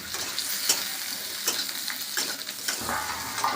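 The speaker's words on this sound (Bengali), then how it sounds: "এবার আমি দিয়ে দিলাম কেটে রাখা আলু। এটাকে একটু লাল লাল করে ভেজে নেব।" Pieces of potato sizzle in hot oil, a continuous crackling hiss broken by a few sharp scrapes of a spatula stirring the pan.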